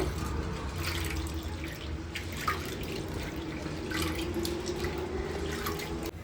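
Toor dal lentils being rubbed and rinsed by hand in a vessel of water, soft continuous sloshing and swishing up close with light drips, no talking.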